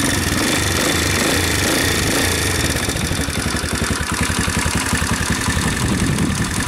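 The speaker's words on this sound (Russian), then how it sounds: "Хороший у меня мопед Ямасаки." A Suzuki TS50 moped engine idles loudly and close by, its rapid, even putter pulsing steadily and quickening slightly toward the end, with no talk over it.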